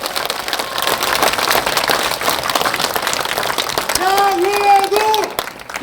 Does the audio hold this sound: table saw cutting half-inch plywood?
no